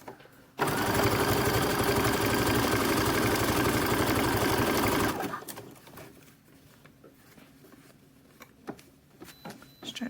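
A sewing machine stitches a waistband onto boxer briefs, running loud and continuous for about four and a half seconds before stopping abruptly, leaving a quiet room with faint scattered noises.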